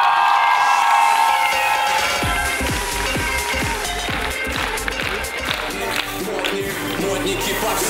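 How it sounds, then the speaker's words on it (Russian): A concert-hall crowd at a KVN comedy contest applauds and cheers as a team takes the stage, sustained dense clapping with whoops over a thumping beat, loud and continuous throughout. "Ваши аплодисменты!"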